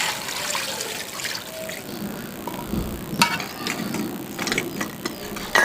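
Two glasses of water pour steadily into a pot of spiced beef karahi with a soft, continuous trickling splash, joined by a few light clinks and knocks near the end.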